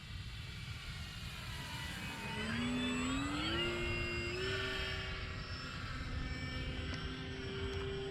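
A radio-controlled Cessna 182 model airplane flies slowly past on a hot, windless day. Its small engine drones steadily and near, the pitch climbing and then holding, with no talk over it.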